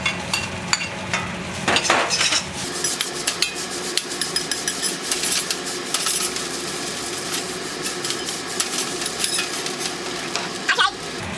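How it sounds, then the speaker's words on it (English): Kimchi and pork going into a hot pan for Japanese-style kimchi fried rice, with steady sizzling and frying plus clinks and knocks of a utensil against the pan, close and continuous throughout. "Add the ingredients. Kimchi and pork."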